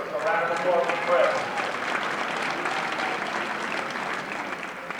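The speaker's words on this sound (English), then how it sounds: "So round of applause for Chris." Applause at a high school boys basketball game for a varsity player, a steady crowd clapping in a gym with some background chatter, holding fairly even for the whole stretch.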